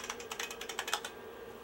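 An IBM 5160 XT floppy drive loads a utility disk with a quick run of rhythmic mechanical clicks and ticks for about a second, then settles into a quiet hum.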